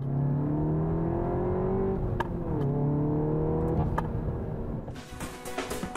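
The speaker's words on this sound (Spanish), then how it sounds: "El sistema de escape es el del Golf Club Sport, pero afinado por Seat se oye realmente bien" Seat León Cupra R with a manual gearbox, its exhaust taken from the Golf Club Sport and tuned by Seat. The engine note is revved up and climbs, dips, then climbs again before easing off, heard close by and alone.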